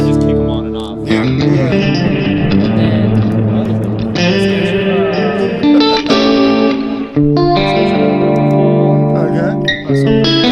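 An electric guitar played through delay and reverb effects rings out with sustained chords and notes that trail into echoing repeats, loud and close, shifting between phrases with brief pauses.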